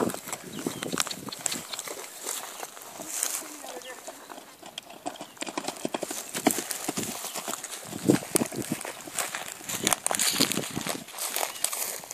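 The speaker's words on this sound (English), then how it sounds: "That's a good trot." A mare trotting with steady clip-clop hoofbeats, a brisk rhythmic patter held through the whole stretch, close and moderately loud, with a rider talking over it.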